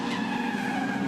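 Race cars spinning out during a 2016 Improved Production race at Hidden Valley, tires skidding and squealing in a loud, continuous screech mixed with engine roar, with no break for the whole moment.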